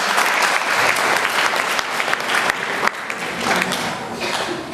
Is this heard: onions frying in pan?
no